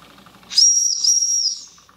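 A small model steam engine lets out a high, steady steam whistle with hissing, lasting about a second before fading, with no chugging clearly heard.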